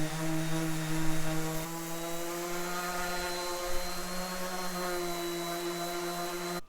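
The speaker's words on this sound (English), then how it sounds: "I'm going to go ahead and sand down the top" A power sander works steadily across the top of a wooden 3D sign, a continuous droning hum with a slight shift in pitch partway through, fairly quiet and uninterrupted.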